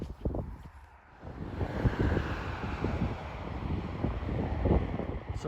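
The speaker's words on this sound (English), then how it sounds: "There are some great views up here, very windy as well." Strong wind buffets the microphone on a hilltop above a Durham village, a continuous roaring rush with gusty swells and a brief lull near the start, close and loud with no voices.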